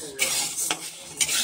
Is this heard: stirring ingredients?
yes